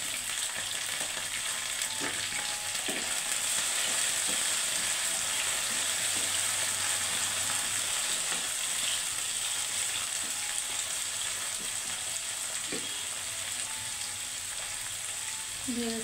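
Pointed gourd frying in hot oil with onions and chillies gives a dense, steady sizzle throughout, broken by occasional scrapes and clinks of a spatula stirring in the pan.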